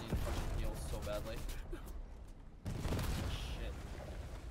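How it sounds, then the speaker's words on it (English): Fortnite gunfire and explosions crackle and boom, loud and dense, with a brief lull before the firing resumes over game ambience and people talking. "Oh shit, there was an explosion! I'm getting shot at by three different teams!"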